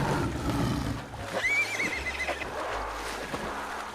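A cartoon horse neighs in an animated farm-animal swimming-pool race, a single rising whinny heard fairly quietly over low background noise and soft hoof-like thuds.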